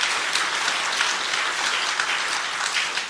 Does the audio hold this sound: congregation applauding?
yes